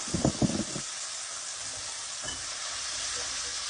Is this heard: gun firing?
no